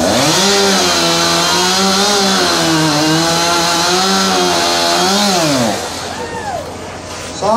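Chainsaw cutting at an obstacle pole race, a loud close engine scream holding and wavering under load for several seconds before dropping off to idle, with a commentator speaking over it.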